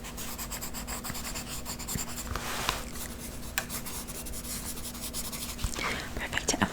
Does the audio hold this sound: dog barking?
no